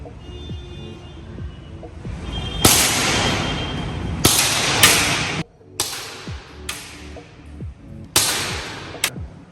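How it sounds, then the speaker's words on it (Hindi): Two sharp shots from an Umarex CO2 air gun fired at a target, each a crisp loud crack with a short ringing tail, followed by several similar metallic snaps and clacks, with no talking. "और अब मैं आपको इसे फायर करके दिखाता हूँ सामने टारगेट नंबर 4 पे"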